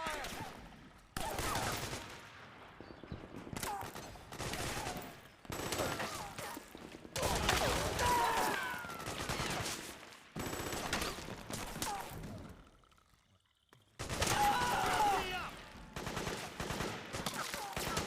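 Suppressing gunfire in the video game Metal Gear Solid 4: Guns of the Patriots, dense bursts of rapid automatic shots in long volleys separated by short gaps, loud and close, with shouted voices mixed in.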